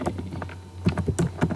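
Quick keystrokes clack on a computer keyboard in a short, irregular burst of close clicks, with a pause before a faster run, no talk.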